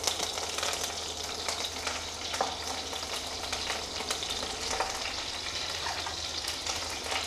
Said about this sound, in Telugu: నెక్స్ట్ జీలకర్ర లైట్గా వేసుకొని ఈ పచ్చిమిర్చి కూడా వేసుకోవాలి కొంచెం కరివేపాకు